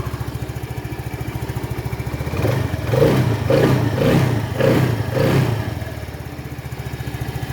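A Rusi Flex 125i motorcycle engine, just fitted with a new Motolite Champion 5L battery, starts and idles with a steady putter, then revs in several short bursts before settling back to idle, loud and close.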